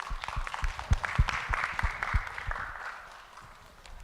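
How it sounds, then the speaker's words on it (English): A small audience at a women's economic forum claps briefly. The scattered, uneven hand claps with some heavy thumps fade out after a couple of seconds. "A round of applause."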